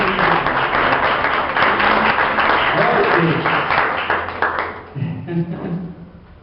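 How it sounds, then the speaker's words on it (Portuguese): Congregation applause in a church, dense and sustained clapping filling the room, with voices mixed in and tapering off toward the end. "daqui a pouco as palmas louvam e glorificam o nome do Senhor"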